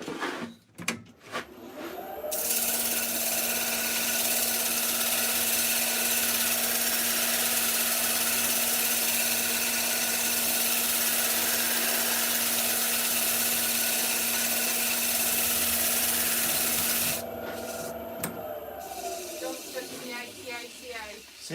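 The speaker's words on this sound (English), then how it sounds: "Need to sand that back a bit further." A wooden turning being sanded on a lathe late at night, a steady loud hissing whir running without pause for about fifteen seconds, with the machine spinning up at the start and winding down at the end.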